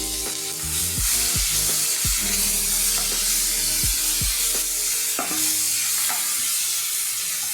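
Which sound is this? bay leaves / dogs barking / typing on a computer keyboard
bay leaves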